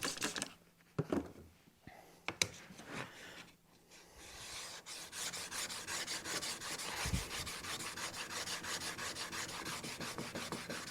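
A Chinese hand plane iron is rubbed back and forth on a wet sharpening block, a steady gritty scraping in close repeated strokes after a few scattered knocks.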